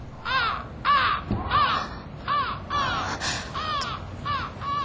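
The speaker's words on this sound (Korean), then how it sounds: "까마귀가 온 거죠?" Several crows caw harshly in a repeated series of sharp calls at dusk from fir treetops, moderately distant, with no talking.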